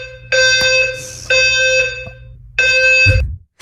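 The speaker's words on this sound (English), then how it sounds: "Do I have any legal rights to the fire alarm going off in the middle of the night all the time?" A fire alarm blares at night in loud, repeated piercing electronic tone bursts, three pulses separated by short gaps, close and harsh, with a brief low thump near the end.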